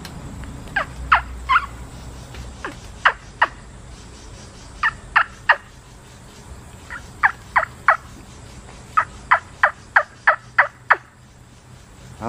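Handmade wingbone turkey call being played, giving sharp high yelping clucks in short rhythmic series of three to six notes with brief pauses, loud and close.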